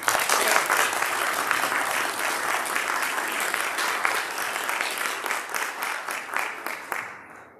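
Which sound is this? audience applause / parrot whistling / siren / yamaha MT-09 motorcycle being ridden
audience applause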